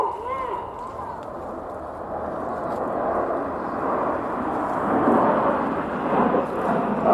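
Avro Lancaster bomber droning at an air show, a steady, low, distant rumble of piston engines that builds gradually, under an announcer's commentary.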